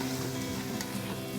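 Chopped vegetables for a Chinese-style dish fry in a Singer rice cooker, giving a close, continuous sizzle with soft stirring texture and no talking.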